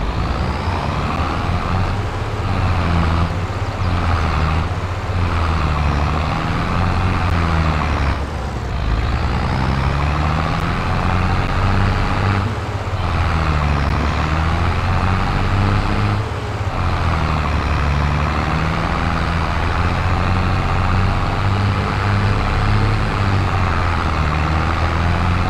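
A vehicle in Farming Simulator 22 drives along with a steady, loud engine drone and rumble, truck-like, with slight shifts in pitch and brief dips as it travels, no talk over it.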